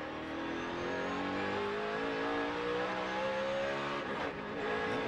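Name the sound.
race car going by at the Brickyard 400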